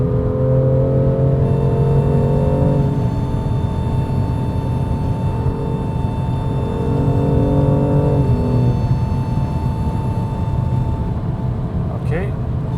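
A BMW M2 Competition runs at high speed above 200 kph, a constant loud road and engine roar with a droning whine inside the cabin, continuous throughout while someone talks over it.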